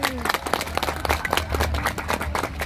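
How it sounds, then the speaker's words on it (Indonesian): People at an outdoor village cultural celebration in Kabregan clap together in a brief burst of uneven clapping, with low background rumble and faint voices underneath. "Tepuk tangan untuk beliau."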